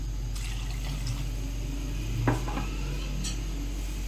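Water is poured into a pot of dry macaroni in a home kitchen, a steady soft splashing over a low background hum, with a brief metallic clink in the middle.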